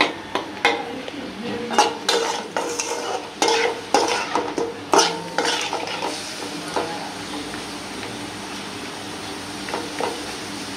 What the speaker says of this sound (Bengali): চিংড়ি মাছটা ভাজে লইছি